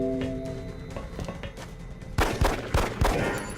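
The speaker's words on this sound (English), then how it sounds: "I'll use my pistol." Pistol shots in XCOM: Enemy Unknown, several sharp reports cracking out in the second half, spaced roughly half a second apart over a busy game soundscape.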